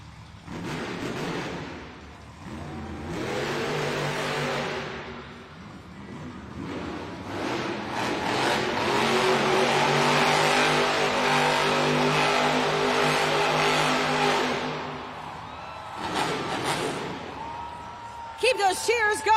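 The Monster Jam truck Sparkle Smash roars through repeated loud engine revs in a Sacramento arena, its throttle swelling into a long, sustained howl, with speech heard over parts of it.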